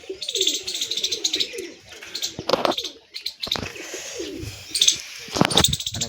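Pigeons coo repeatedly in a breeding loft, with soft throaty calls close by, a few chirps and brief wing flaps between them, and no talking.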